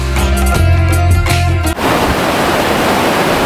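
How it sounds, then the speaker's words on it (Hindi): The Alaknanda river flowing at Badrinath Dham gives a loud, steady roar of rushing water that fills the second half. Before it comes a stretch of loud music with a steady beat. "ये है अलकनंदा नदी बहती हुई बद्रीनाथ धाम से।"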